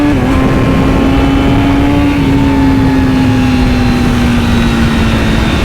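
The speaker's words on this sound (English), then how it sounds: "you can hear the exhaust note" A Honda CBR1000RR-RSP motorcycle exhaust drones loudly and steadily at cruising speed, its pitch holding nearly constant with slight drifts, no talking.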